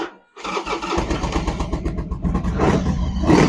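Harley-Davidson motorcycle engine cranking and firing up, then revving with a throbbing, pulsing beat that grows louder toward the end, close and loud with no talk.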